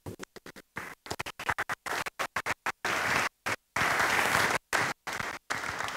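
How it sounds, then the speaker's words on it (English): An audience at a panel-session event gives a round of applause, heard as bursts of clapping broken by repeated abrupt dropouts, fairly quiet and without talk. "please give a round of applause for Abiodun"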